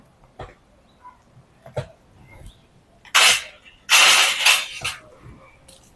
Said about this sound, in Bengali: এইরকম এরকম করছি মুচমুচ করে আওয়াজ হচ্ছে